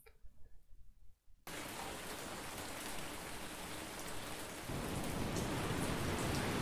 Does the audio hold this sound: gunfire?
no